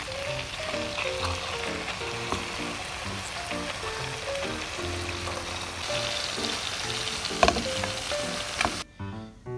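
Gonzui fish simmers in sauce on low heat, giving a close, continuous soft sizzle and bubbling with small clicks of utensils, with no talk.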